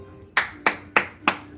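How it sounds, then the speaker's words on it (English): Hand claps in a steady series of four, sharp and close, spaced about a third of a second apart over a faint background hum. "Let me give you a little clap."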